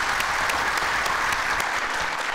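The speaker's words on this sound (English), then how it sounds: "let's all please welcome our guest of honor as well as all delegates on this beautiful day with a round of applause" An audience at a conference on digitalization in Africa applauds to welcome a guest of honor and delegates. The clapping is dense and loud throughout, with no voices over it.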